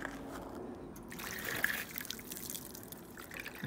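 A small amount of water trickles and dribbles off freshly waxed paint on a Ford Escort RS Turbo during a wax test. It makes a soft, faint, continuous patter close by, with no voices.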